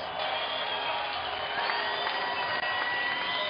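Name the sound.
crowd applause after a boxing round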